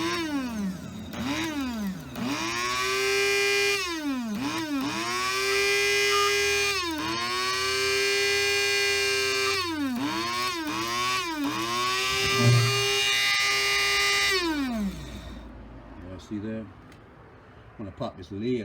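An electric grinder pulsed to grind very dry dill into powder, giving about seven close, loud whining bursts that rise and fall in pitch as the motor spins up and down, before stopping near the end.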